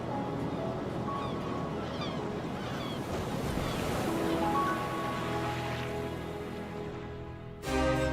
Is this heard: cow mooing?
no